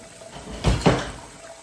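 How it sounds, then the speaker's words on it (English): Tap water runs into a pan of soapy water in a home kitchen, heard as two brief splashing gushes close by, one after the other, with quiet room tone around them. "I gotta fill this pan up with soapy water."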